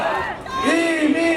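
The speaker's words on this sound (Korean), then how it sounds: "더욱 힘찬 함성으로 이민근을 외쳐주십시오" A rally crowd for a mayoral candidate in Ansan shouts his name in unison, a loud, sustained chant of many voices rising together.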